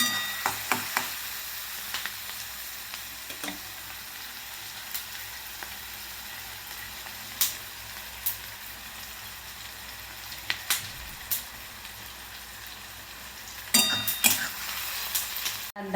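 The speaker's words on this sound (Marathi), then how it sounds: "तर आता कांदा आपला भाजलेला आहे" Onion frying in a pan for a ridge gourd and moong dal dish: a constant gentle sizzle punctuated by sharp clacks of stirring, with a cluster of louder scrapes near the end.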